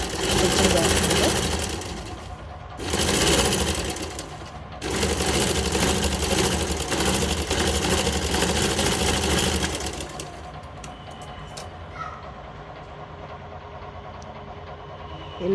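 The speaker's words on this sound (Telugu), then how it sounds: "చూడండి ఎలా షేపులు ఎలా స్టిచ్చింగ్ చేస్తుందో." A sewing machine stitches shaped patterns into fabric with a fast, loud, steady mechanical whirr that runs in long bursts broken by brief pauses, then gives way to quieter handling noise, with people talking in the background.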